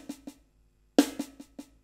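A drum pattern sticking right, left, right, right, played twice with a pause between: the first pass is soft, and the second opens with a loud accented stroke followed by lighter hits. Close and dry, with no voices.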